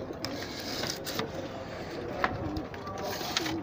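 Pigeons in a loft coo softly amid rustling and flapping, with scattered sharp clicks and wing claps over a close, busy background.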